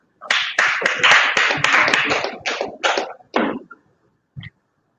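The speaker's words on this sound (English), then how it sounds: "Can we all give them another round of applause?" Applause from a club audience at a Kiwanis board installation ceremony, a short burst of clapping that quickly thins to a few scattered claps before stopping.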